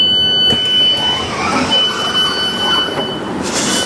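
A South Western Railway train running, a loud steady rumble with a thin high whine and squealing wheels close by, continuous throughout with no talking.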